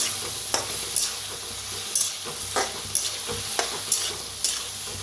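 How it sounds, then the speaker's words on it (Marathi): Potatoes stirred and roasted in a hot pan with green chillies, a steady sizzle broken by regular scraping strokes of the spatula about once a second, close and moderately loud with no voice. "त्याच्यात टाकूया बटाटो असं छान हलवून घेऊया बटाटो भाजून असं"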